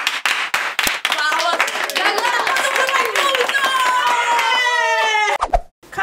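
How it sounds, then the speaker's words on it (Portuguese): A round of applause from a small group of people indoors: a few sharp claps at the start, then scattered clapping mixed with lively voices and sustained tones, ending in a brief quiet gap. "Inclusive, uma salva de palmas pro Lucas Angel que você assumiu."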